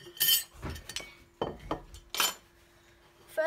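Four eggs being mixed in a bowl for a carrot cake batter, heard as a few sharp clinks and taps of a utensil against the bowl, spaced irregularly with quiet gaps between them.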